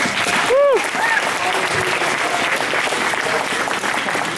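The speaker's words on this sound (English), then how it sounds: "Mr. Ed, give him a round of applause." A crowd at a holiday event gives a round of applause, a dense, steady wash of clapping throughout, with a brief whistle or tonal cue near the start.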